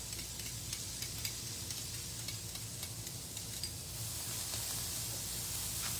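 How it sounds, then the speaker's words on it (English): Garlic sizzles and hisses steadily in a Lodge carbon steel pan alongside peppers and onions, with occasional soft stirring scrapes and a constant frying crackle throughout. "so I'm going to throw in my garlic here."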